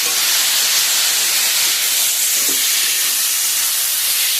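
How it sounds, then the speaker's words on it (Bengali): Chili powder and a little water sizzling hard in a hot pan, a loud steady steam-like hiss that holds unbroken from start to end with no talk over it. "এবার এর মধ্যে লঙ্কার গুঁড়ো দিয়ে দেবো। অল্প জল দিয়ে সাঁতলিয়ে নেব ভালো করে।"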